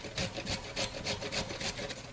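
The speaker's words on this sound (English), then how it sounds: "We've got a carrot. Just going to take my box grater and grate it." Carrot rasped against a box grater in quick rhythmic strokes, about ten scraping passes in a steady back-and-forth pattern, close and fairly soft.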